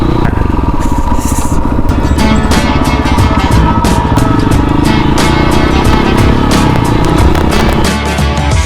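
A motorcycle on a summer road trip runs loud and continuous throughout with engine drone and rattling clatter, with no clear separate skid squeal, ending as it comes to a sudden stop.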